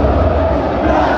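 Loud crowd roar, like cheering fans in a stadium, dense and continuous throughout, part of a Fluminense football channel's intro jingle.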